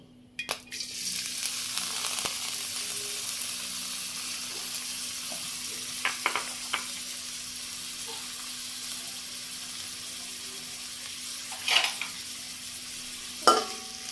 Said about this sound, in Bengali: এখন আমি পেঁয়াজ কুচিগুলো দিয়ে দিব